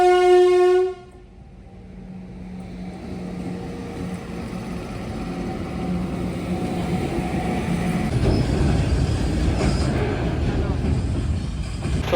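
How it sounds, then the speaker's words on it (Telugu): A train at a railway level crossing in the Araku Valley sounds a loud horn, then rumbles and clatters past up close. The rolling noise grows heavier toward the end. "ట్రైన్ వస్తుంది అనుకుంటా, ఐ థింక్ వచ్చింది ట్రైన్."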